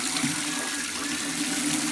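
Tap water runs steadily from a faucet while cleaning a printer ink tank, a continuous close splashing rush with no voices.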